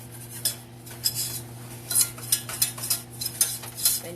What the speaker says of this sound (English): So it says stir it in here really well.